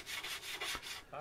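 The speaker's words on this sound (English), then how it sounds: "I'm just going to use a loose piece of sandpaper to do it, and just round them off freehand." Loose sandpaper rubbed freehand over the wooden corners of a model plane under construction, a close, steady scratchy sanding in several quick back-and-forth strokes with no talk.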